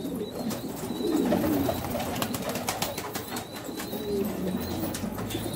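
Kash pigeons from Syria cooing, soft repeated low coos close by amid a busy loft with faint wing rustles and light background noise, no talk.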